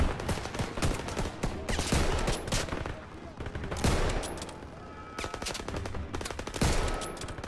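Rapid gunfire bursts and machine-gun fire in a Call of Duty: WWII ambush battle, dense and continuous with sharp shots throughout, loud and close amid game battle noise.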